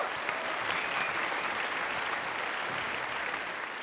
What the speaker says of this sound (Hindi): जोरदार तालियों से स्वागत कीजिए अरुण मावी का।